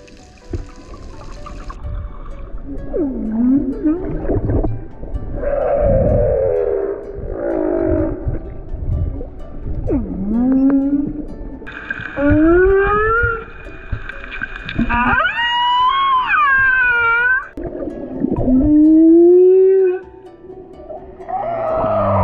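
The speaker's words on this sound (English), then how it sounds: "we heard whales singing" Humpback whales sing underwater off Moorea in the warm mating and calving waters, with a chain of rising and falling moans, whoops and upswept cries that sound close and loud, some overlapping, over a constant watery hiss.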